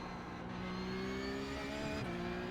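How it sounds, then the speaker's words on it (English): In a racing video game, a Porsche 911 Cup (992.2) engine drones steadily at Imola while worn-out tires squeal and slide along a sustained pitch. "Tires are just shot. You can hear them."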